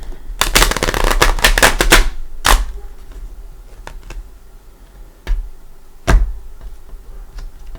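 A tarot deck is riffled in a loud, dense burst of papery flutter lasting about two seconds, followed by a few sharp single card snaps and taps spaced apart in a quiet room.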